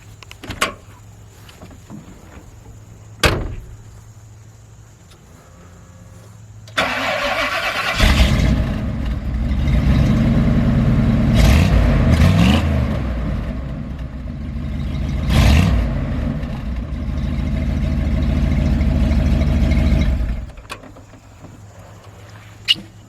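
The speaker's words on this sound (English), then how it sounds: "it's got a true dual exhaust, no cats. It's just got 2 Super 40 Flowmaster mufflers" A custom 1987 Ford Bronco engine cranks and catches, then settles into a loud, rumbling idle through true dual exhaust with no catalytic converters and two Flowmaster Super 40 mufflers for over ten seconds before shutting off.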